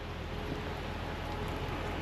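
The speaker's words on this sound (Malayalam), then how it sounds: "മൊത്തം മഴയാണ് ഇവിടെ നല്ല മഴ" Steady, even rain falling on a large, empty truck parking area in Europe, a soft continuous hiss with no pauses or voices.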